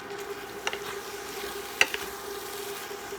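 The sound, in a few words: vegetables and pork stir-frying in a pan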